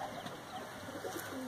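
A Pevar Dhanne Wala pigeon coos softly in a few low, rolling calls against a faint, steady background.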